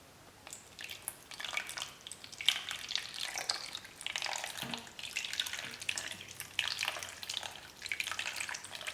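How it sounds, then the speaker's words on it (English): Water from a jug splashes and trickles steadily into an ice tray for several seconds, with bursts of pouring and small drips, fairly close and with no talking. "Get your water jug and just slowly fill it up."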